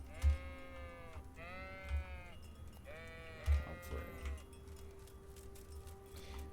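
Sheep in the video game Kingdom Come bleat in a few wavering calls with short gaps between them, and a low thump lands under several of the calls. A voice murmurs faintly in the background.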